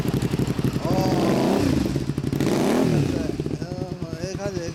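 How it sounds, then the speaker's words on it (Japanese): A 1988 Honda VT250 Spada motorcycle fitted with a Metal Speed aftermarket muffler, revved up twice in loud close surges that rise and fall, settling back to a throbbing idle while people talk nearby. "エンジン音聞かせてもらえるかな"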